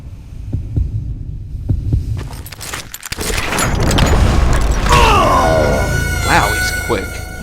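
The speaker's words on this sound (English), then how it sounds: "Want to hear the heartbeat?" A heartbeat effect from the Call of Juarez Gunslinger video game thumps in a slow, low rhythm at first, then gives way to louder swelling game sounds and a hum, while a person talks over it.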